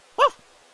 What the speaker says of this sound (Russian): А это мой пес Вундершмац.